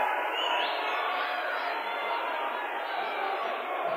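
Restless crowd murmuring at a high school state open wrestling final, a steady diffuse roar of many voices filling an arena, constant and moderately loud with no single shout standing out.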